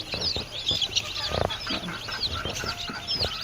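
Spotted chicken chicks peep and cheep in quick, high little calls, scattered and continuous, close by, with faint clucking mixed in.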